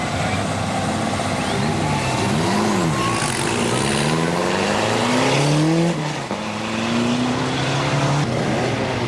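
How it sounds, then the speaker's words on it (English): A turbocharged Mustang SVO races a turbocharged Datsun 280ZX at a grassroots drag event, loud engines revving up through rising gears with shifts and a turbo whine, close and sustained, with a voice talking over it. "Here we have a Mustang SVO, turbocharged, versus a turbocharged Datsun 280ZX."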